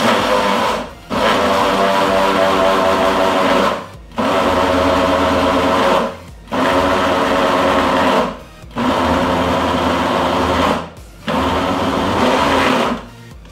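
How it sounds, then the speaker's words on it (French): A kitchen food processor motor whirs loudly in pulses of about two seconds each, cutting out briefly between bursts five times, with no talk. "pour que le moteur du robot chauffe, mettez tous les 2 secondes un arrêt"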